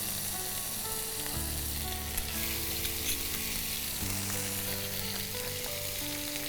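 Ginger paste fries in hot oil with a soft, continuous sizzle over a quiet, steady tonal background, with no voices.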